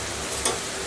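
Garam masala and salt being stirred into a frying malai kofta gravy in a pan, a brief steady sizzle with a soft scrape of stirring midway, close and alone.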